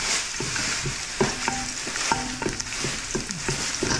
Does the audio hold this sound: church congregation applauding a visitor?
no